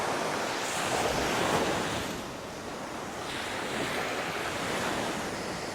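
Ocean surf rolls steadily onto a beach at Kalpitiya, Sri Lanka, a continuous broadband wash with some wind buffeting the microphone, swelling slightly then settling, with no voices present.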